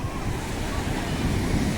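Waves wash onto a beach at Devgad in a steady, rumbling roar, blended with gusty wind noise across the microphone.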